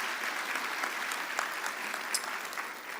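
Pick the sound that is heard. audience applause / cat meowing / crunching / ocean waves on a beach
audience applause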